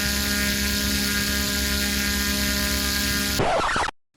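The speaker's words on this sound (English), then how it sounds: "that is my custom-made, mostly 3D printed, massive brushless drone motor. And it's spinning a also custom-made, fully 3D printed 18-inch prop" A massive custom-made, mostly 3D printed brushless drone motor spins a fully 3D printed 18-inch prop at full throttle, a loud steady whine with strong tonal hum that cuts off abruptly near the end.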